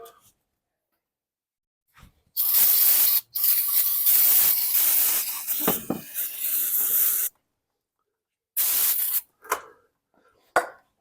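Brake cleaner sprays in loud, close hissing bursts onto a Toyota Highlander brake caliper, a long blast of several seconds with brief pauses, then a few shorter spurts after a gap.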